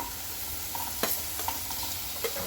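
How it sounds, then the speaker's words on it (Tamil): Tomatoes sautéing in a pan with oregano and black pepper powder for red pasta, a gentle continuous sizzle with a couple of spatula clicks, close and soft, without speech. "இந்த தக்காளியில் நம்ம போட்டு வதக்குனது வந்து இந்த ஒரேகானல் சீடும் இந்த குருமிளகு பொடியும் போட்டு வதக்கிட்டு"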